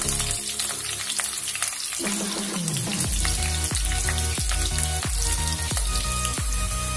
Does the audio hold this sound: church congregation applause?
no